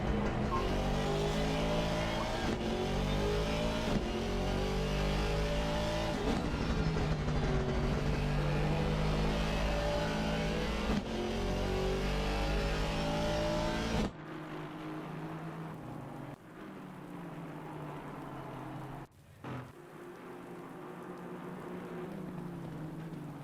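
A GT4 race car circles Brands Hatch in the Assetto Corsa Competizione racing game, its engine droning and shifting steadily at high revs. Partway through, the sound drops abruptly to a quieter, more distant engine murmur.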